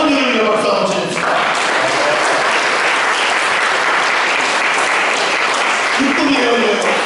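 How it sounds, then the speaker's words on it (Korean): A church congregation at a Korean Holiness church service gives dense, steady applause for mothers. It is loud and continuous with voices mixed in, and a speaking voice comes through briefly at the start and end. "어머니를 위해 박수 한번 쳐봅시다."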